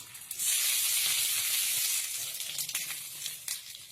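Tomatoes fry in a pan of hot oil for chutney, giving a steady, close sizzling hiss with a few soft crackles and small pops scattered through it.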